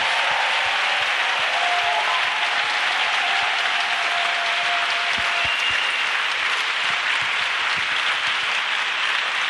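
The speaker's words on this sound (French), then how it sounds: "Clap for Jesus." A church congregation claps together for Jesus, dense sustained applause with a steady underlying beat of rhythmic hand claps filling the room throughout.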